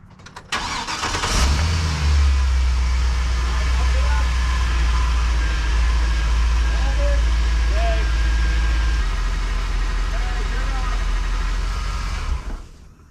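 A truck engine cranks and catches, then settles into a loud, steady idle with a low rumble that drops slightly partway through before cutting off near the end; voices talk faintly nearby.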